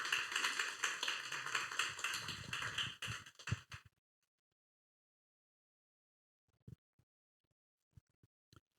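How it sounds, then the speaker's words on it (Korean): A church congregation applauds loudly for a few seconds, the clapping breaking off abruptly into silence, followed by a few scattered taps and knocks. "큰 박수."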